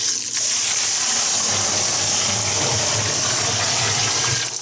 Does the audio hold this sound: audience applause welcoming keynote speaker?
no